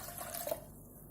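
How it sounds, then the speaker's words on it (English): Water poured into a pot of washed moong dal on the stove, a faint, brief splash and trickle that stops after about half a second, leaving quiet. "Add in sufficient amount of water"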